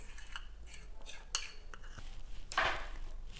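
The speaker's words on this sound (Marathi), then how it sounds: "पुन्हा एकदा फेटून आता मी हे सगळं याच्यामध्ये मिक्स करणार आहे" A spoon stirring and whisking curd in a bowl while a pomegranate raita is mixed, giving a series of light clinks and scrapes against the bowl with one sharper knock near the middle and a brief smeary swish toward the end.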